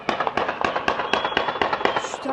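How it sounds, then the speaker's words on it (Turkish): Fireworks pop and crackle in a rapid, uneven string of sharp bursts at a spring festival celebration, fairly loud and steady throughout. "Arkalarda var havai fişek"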